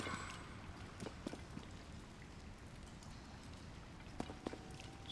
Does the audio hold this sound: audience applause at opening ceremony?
no